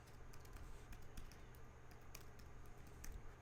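Faint, quick keystrokes on a computer keyboard as a username and password are typed in, an uneven run of soft taps close by in a quiet room.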